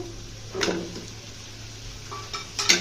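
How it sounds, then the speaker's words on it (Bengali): A utensil scrapes and clinks against a pot as potatoes are stirred into chicken curry, a few brief metallic knocks standing out from quiet background hum, one near the start and a louder cluster at the end. "আলুটা দিয়ে ভালো করে মিশিয়ে নিব"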